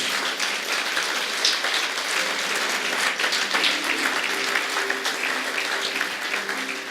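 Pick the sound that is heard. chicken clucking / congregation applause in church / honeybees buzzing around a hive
congregation applause in church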